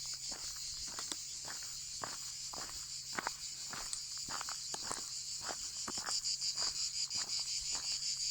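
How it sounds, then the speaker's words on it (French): Crickets chirp in a constant high shimmer along a sunny walking trail between Cahors and Lascabanes in southern France, while close, steady footsteps crunch rhythmically underneath. "Vous entendez les grillons?"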